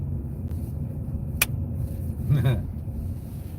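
A bus engine rumbling low and steady on a New Orleans street, with a brief sharp click and a faint passing hum, as people talk nearby.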